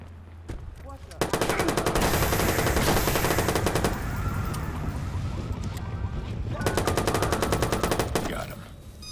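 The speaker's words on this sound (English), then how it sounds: "He's shooting! He's shooting!" Sustained bursts of enemy gunfire in Watch Dogs, loud and rapid automatic fire with a brief lull before a second barrage; no talk.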